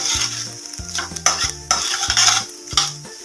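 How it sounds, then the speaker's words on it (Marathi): Asafoetida in hot oil in a pan is stirred with a metal spoon, giving repeated scraping and clinking strokes over a soft sizzle, close and fairly loud, with no one talking. "हिंगानंतर आपण थोडंसं याला आपण हलवून घेऊया"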